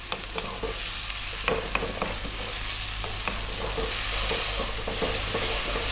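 Egg curry frying over fairly high heat, a constant crackling sizzle with repeated sharp clicks of a spoon stirring against the pan, close and without voices.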